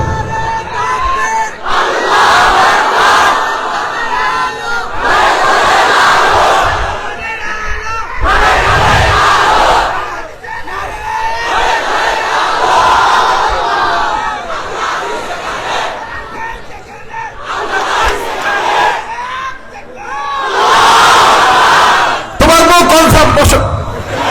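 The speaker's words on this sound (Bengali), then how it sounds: "দাঁড়িয়ে একটা তাকবীর দাও, যে কোনো একজন জোরে সোরে দাও তাকবীর।" A large crowd at an outdoor Islamic religious gathering shouts takbir in repeated loud collective bursts, each followed by a short lull, with a speaker's voice between the chants.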